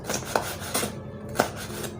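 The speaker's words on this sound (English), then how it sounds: "Well, I'm chopping the peppers." Knife chopping peppers on a cutting board during cooking, about four distinct soft taps at an uneven pace, close and quiet, with no speech.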